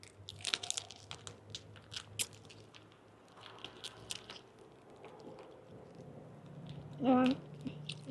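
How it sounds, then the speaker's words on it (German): Crunching bites into a caramel Haribo candy, a series of sharp close clicks and crunches at an irregular pace, with a brief voice near the end. "Einmal reinbeißen."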